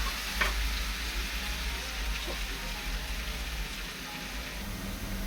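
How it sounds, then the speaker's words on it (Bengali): Poppy seed paste added to potatoes frying in a pan for aloo posto, giving a steady soft sizzle with light stirring scrapes, close and moderately quiet, no voices. "এবারে রাখা বাটা মশলাটা দিয়ে দেবো, পোস্ত বাটা"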